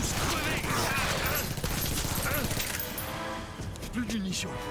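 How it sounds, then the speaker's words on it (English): Gunfire in the Onimusha 3 video game: a dense, continuous stream of rapid shots with sharp clatter, loud and close, with a voice talking over it and the shooting thinning out near the end. "Oh, you finally ran out of ammo? Shot like 500 bullets."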